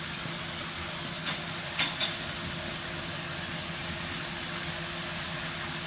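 Garlic sizzles after being dropped into hot ghee in a pan, a steady frying hiss with a couple of small clatters near the start.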